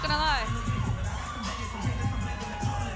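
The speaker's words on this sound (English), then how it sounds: "She's getting a lot of hype from the crowd" Crowd noise in the arena at a live boxing event, a murmuring roar with whoops and cheers, while a voice talks over it near the start.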